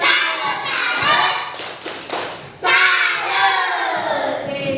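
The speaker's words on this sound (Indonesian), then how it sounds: "Coba tepuk salut." An Indonesian primary classroom performs the 'tepuk salut' clapping chant, with children's voices shouting the words over sharp, rhythmic group claps and thumps in repeated bursts, loud and close.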